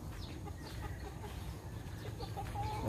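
Chickens, all white, scattered around a yard, clucking softly at a distance over faint background noise.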